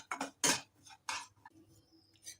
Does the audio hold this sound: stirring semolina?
yes